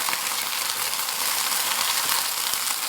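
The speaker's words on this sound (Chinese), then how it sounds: "继续翻炒" Green leafy vegetables stir-fried in hot oil with a little salt, sugar and spice, a steady close-up sizzle and crackle holding level throughout with no talking.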